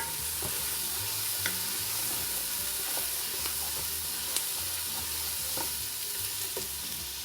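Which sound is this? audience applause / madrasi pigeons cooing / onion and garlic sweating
onion and garlic sweating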